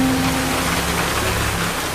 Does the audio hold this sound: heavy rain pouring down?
yes